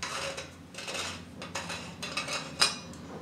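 Rubber-sealed lid of a Borosil copper water vessel being opened, with close metallic clinks and scrapes over about three seconds, a sharper knock near the end.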